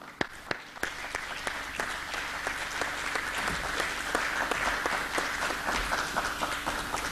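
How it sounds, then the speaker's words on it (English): Warm audience applause welcoming a lecturer at an evening talk on Islam, a steady dense clapping from a large hall crowd, loud and close, sustained throughout with no voices over it. "Warm applause for Dr. Khalid Al Mansoor."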